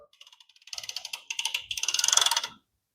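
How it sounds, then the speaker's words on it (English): A ratchet wrench clicks rapidly on a Harley-Davidson compensator, two close bursts of quick metallic ticks in a quiet shop. "I'm going to bring the ratchet around."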